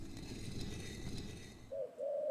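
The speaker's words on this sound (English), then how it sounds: "And that was a pigeon" Two short pigeon coos from the video game Nephise, close together near the end and following a low rumbling background that drops away.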